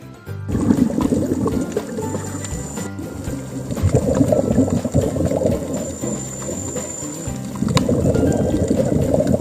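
Scuba diving in the sea off Penghu, Taiwan: muffled underwater rushing and bubbling fills the scene, with periodic surges of breathing-regulator bubbles and low watery churning throughout.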